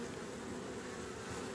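Honeybees swarm over a well-populated hive nucleus while a super is added, giving a steady, close, continuous buzzing drone with no voices over it.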